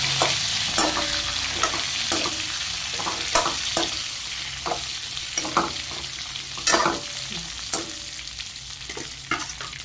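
Stuffed brinjals fry in oil in a kadhai while a spoon stirs them, giving a steady soft sizzle broken by repeated scraping and clinking strokes at an irregular rhythm.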